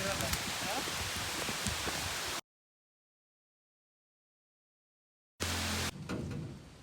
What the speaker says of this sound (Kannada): ಇಂಥ ಮಳೆ ಇದ್ರೂ ಸಹ ಕೆಲಸಗಳಂತೂ ನಿಲ್ಲೋದಿಲ್ಲ